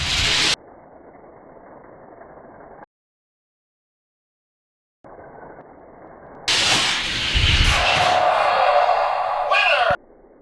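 Hot Wheels and Matchbox die-cast toy cars race down a track together, producing a close, loud rattling clatter that builds over a few seconds and then cuts off, after short stretches of hiss and silence.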